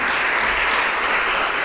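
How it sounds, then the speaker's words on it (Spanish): Church congregation applauding at a service, a dense steady wash of clapping from many hands that fills the short moment on its own. "Den un aplauso al Señor."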